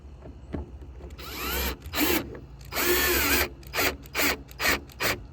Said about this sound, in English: we're screwing into plastic here, so you really don't need to hit them too hard